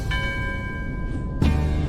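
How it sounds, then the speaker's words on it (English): An underwater bell struck by a diver, caretaker of a submerged Shinto shrine, to call fish: a sustained metallic ring with steady tones fades slowly, then a second strike lands near the end amid dull underwater rumble. "He calls the fish by hitting the underwater bell."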